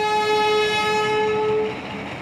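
A train at a busy railway junction where express trains come and go, sounding a loud, sustained horn blast that holds steady and then fades slightly near the end, with the rumble of the train underneath.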